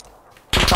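Loud burst of rapid gunfire in the PUBG battle game, several close shots cracking in quick succession after a quiet moment.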